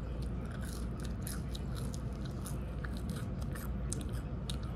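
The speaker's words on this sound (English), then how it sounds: "Let's try these crinkle cuts." Crunchy biting and chewing of salty crinkle-cut fries from Arby's, close and continuous with dense irregular crunches and no talk.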